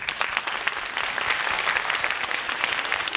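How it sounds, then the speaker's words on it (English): Parents and families at a kindergarten class performance applaud a teacher, a dense, continuous wash of clapping from a crowded room lasting a few seconds with no break. "So let's give her a big round of applause as well."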